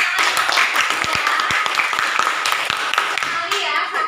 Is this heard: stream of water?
no